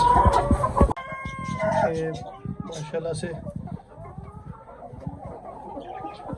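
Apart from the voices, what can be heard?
Ayam Cemani chickens and rooster clucking on rooftop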